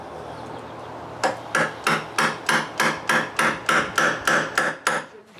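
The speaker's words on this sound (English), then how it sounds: "with a nut threaded at one end, I pound the rods between two tiles" Steel hammer blows pounding threaded rods, each with a nut threaded on one end, between two tiles: about fourteen sharp, evenly spaced metallic strikes in a steady rhythm, close and loud, with no talking.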